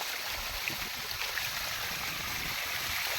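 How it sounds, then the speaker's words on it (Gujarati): Water gushes out under pressure in a village field, a steady broadband rushing hiss that holds evenly throughout at moderate level, with no voices. "પાણી પ્રેશરથી એટલું બધું આવે"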